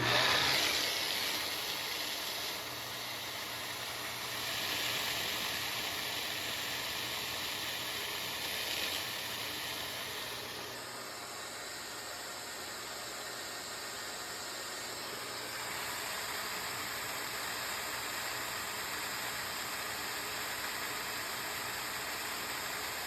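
A Little Green HydroSteam cleaner runs steadily, pushing water through its hose with a continuous close hiss and motor drone. A high whine shifts partway through, while the overall level stays fairly even.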